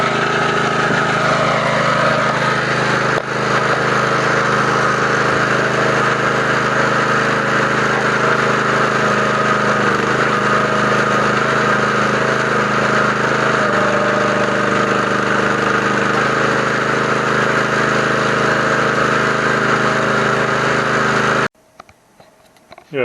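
The engine of a Benchmark 25 ton wood splitter runs loud and steady nearby, a continuous mechanical drone that lasts almost the whole time and then cuts off abruptly near the end.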